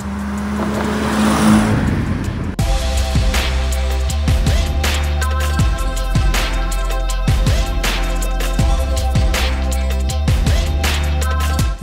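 Restored Jaguar E-Type Series 3 with its original fuel-injected V12, upgraded to nearly 400 horsepower and paired with a 5-speed manual, rumbles steadily and loudly, with repeated revving surges and background music throughout and no voices.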